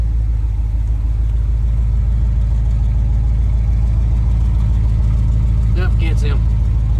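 A 1992 Ford OBS truck with a clogged exhaust pipe idles in a steady, low, continuous rumble, with a brief voice near the end.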